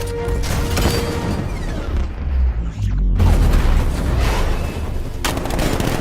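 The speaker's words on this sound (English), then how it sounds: "60mm cannon operational." A 60mm cannon fires in the Batman Arkham Knight video game, producing heavy booming blasts and rapid rattling bursts amid loud explosive game action and rumble, with a short quieter gap in the middle.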